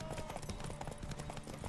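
Horse hooves clop in a rapid, steady rhythm in The Witcher 3, a faint galloping pattern under soft background game sound and music.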